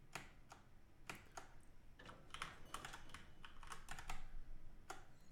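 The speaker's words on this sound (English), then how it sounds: "bear with me as I use my mouse and keyboard." Computer keyboard keys tap in quick irregular clusters alongside occasional mouse clicks, faint and close in a quiet room, with no one speaking.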